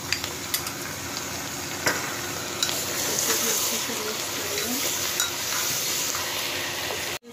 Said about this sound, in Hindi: तो इसमें हम दो चम्मच भर के अदरक लहसुन का पेस्ट डालेंगे।